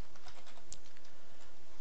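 Rapid, close keystrokes on a computer keyboard, a steady patter of light clicks with no voices.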